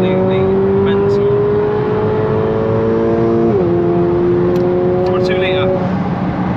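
Mercedes-AMG A45 hatchback accelerating hard, its engine note rising steadily, briefly dropping at a gear change, then climbing again, loud and close from inside the cabin.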